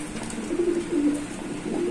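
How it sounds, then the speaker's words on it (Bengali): A pair of pigeons, a Silky Laksha and a Lotan, coo in low, rolling phrases close by, the soft throaty calls repeating steadily over faint background noise. "এখানে আপনারা আরো এক পেয়ার কবুতর দেখতে পাচ্ছেন"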